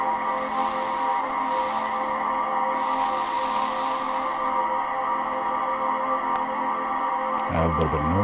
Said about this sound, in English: we could add a little bit of erosion